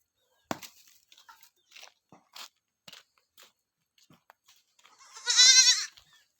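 Scattered faint knocks and rustles, then one loud, close bleat from a young goat kid near the end.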